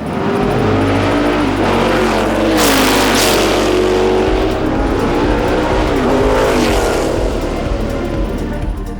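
A 1968 McLaren M6B Can-Am race car engine roars loud and close, revving up and down through gears with a deep, continuous rumble throughout.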